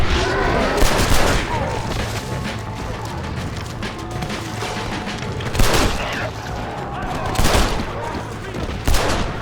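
Gunfire in Red Dead Redemption: Undead Nightmare on Xbox 360 as the player shoots at zombies, with sharp repeated shots and scattered bursts cracking over a busy game background.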